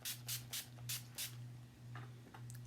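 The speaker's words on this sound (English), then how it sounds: "So this is the NYX matte finish spray." NYX matte finish setting spray spritzed onto a face in five or six short hissing bursts, close and fairly loud, followed by a couple of softer puffs over a low steady hum.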